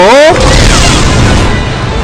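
An explosion skill bursts in an Aion PvP title-match fight: a sharp boom at the start gives way to a loud, sustained rumbling wash, with chiming effect tones fading in the first moment.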